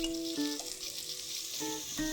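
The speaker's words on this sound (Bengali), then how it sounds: "গাঢ় বাদামি রং আসা পর্যন্ত ভাজতে হবে।" Sliced onions with cardamom and a piece of cinnamon frying in oil, giving a steady bright sizzle throughout with faint tonal hums from the cooking area, close and continuous with no talking.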